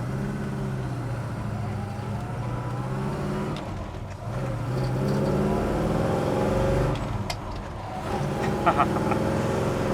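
A 1966 Chevrolet Chevelle SS running down the road, its engine droning steadily from inside the car and rising and falling as the driver shifts through the gears toward highway speed, with a brief lull between pulls.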